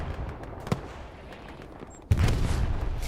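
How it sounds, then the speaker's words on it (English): An artillery strike in the video game Hell Let Loose: a distant dull thump, then a louder boom that rolls into sustained rumbling over steady battlefield ambience. "Artillery strike on its way."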